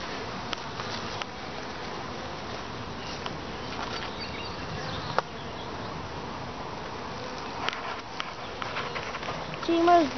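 Bees hum in a steady, low drone at the entrance of a long hive with high frames, a continuous close-up buzz with small scattered knocks and a brief rise at the end.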